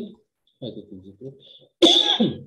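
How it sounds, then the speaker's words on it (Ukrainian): In a cold university classroom someone speaks briefly, then gives a single loud, close cough that rasps out for about half a second. "Я просто кашляв"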